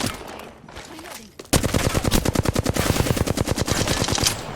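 Machine gun fire in a video game: after a quieter stretch, a loud, sustained stream of rapid, evenly spaced automatic shots rattles on without pause to the end.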